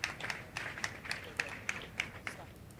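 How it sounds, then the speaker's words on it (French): Clapping rings out in a church, with sharp claps in a quick, fairly regular rhythm. It sounds like a small group or a few hands rather than a big crowd, moderately close and not loud. "Applaudissons pour Jésus-Christ."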